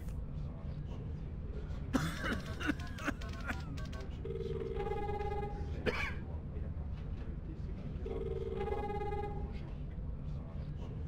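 A telephone rings twice in The Longest Journey video game, each burst a steady electronic trill with evenly spaced pulses, preceded by coughing and throat clearing over a low background hum.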